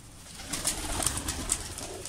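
Pigeons, some young ones just grown, coo and flutter softly at feeding time, a steady close murmur of low cooing with light chirps and rustling throughout.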